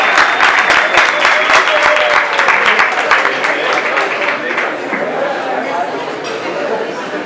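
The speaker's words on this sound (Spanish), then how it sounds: "Bueno, un aplauso por favor." Loud applause from a classroom audience during a Spanish-language lesson on Bogotá's climatic and geological history, dense clapping at the start that tapers into chatter and murmuring voices.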